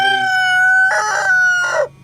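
A rooster crows loudly and close by during a survival challenge on Sebago Lake. Its long, tonal call is followed by a couple of ragged, harsher bursts before it cuts off abruptly.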